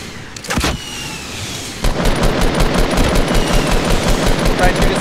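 Gunfire in the Fortnite Battle Royale video game: two quick shots, then a sustained rapid burst of automatic fire, loud and close, over a steady background.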